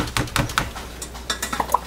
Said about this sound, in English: I can hand stir it and it'll be fine